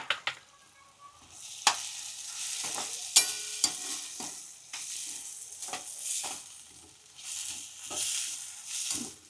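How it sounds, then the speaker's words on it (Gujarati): A spoon scrapes and stirs through a sizzling mixture of green val beans, sesame and crushed peanuts in a pan, with soft frying hiss underneath and occasional sharp clinks. "થોડી વાર આવી રીતના હલાવતું રહેવાનું આવી રીતના મિક્સ કરવાનું"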